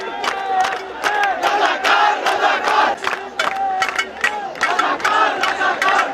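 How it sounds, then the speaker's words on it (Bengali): Students chant a protest slogan at night at Dhaka University, a large crowd shouting in loud rhythmic unison, repeated call after call without pause. "মধ্যরাতে এই স্লোগানে ঢাকা বিশ্ববিদ্যালয় এলাকা মুখরিত করেছেন কোটা বিরোধী আন্দোলনে থাকা শিক্ষার্থীরা"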